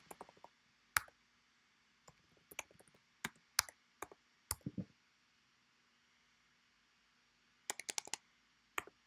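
Computer keyboard typing a docker compose command, sparse quiet key clicks in short bursts and single taps with pauses between, close and alone in a silent room.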